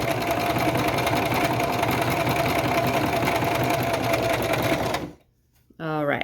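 A sewing machine runs a straight stitch with its pedal pressed slowly, giving a steady, loud mechanical whirr for about five seconds before it stops and a voice begins to speak.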